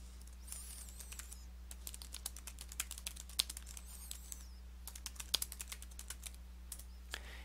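Computer keyboard typing while entering a numbered list in OneNote 2013, quick irregular key clicks in short bursts, quiet and close over a low steady hum, with no speech.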